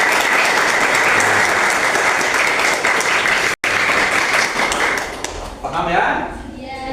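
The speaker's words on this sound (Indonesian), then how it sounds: "kasih tepuk tangan untuk mereka juga." Students in a classroom clap for classmates after a maths exercise, dense steady applause that fills most of the clip, cuts out briefly, then fades as a few voices start talking.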